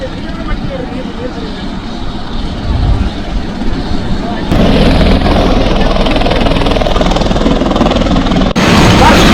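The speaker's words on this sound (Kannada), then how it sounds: "ಅದಾದ ಬಳಿಕ ಹೆಲಿಕಾಪ್ಟರ್ ಮತ್ತೊಮ್ಮೆ ಟೇಕ್ ಆಫ್ ಆಗಿ ನಿಗದಿ ಮಾಡಿದಂತಹ ಹೆಲಿಪ್ಯಾಡ್ ನಲ್ಲಿ ಲ್ಯಾಂಡ್ ಆಗಿದೆ" Helicopter engine and rotor roar close and loud at a helipad in Raichur, a steady heavy drone that swells louder partway through as it lifts off or sets down, cutting sharply near the end.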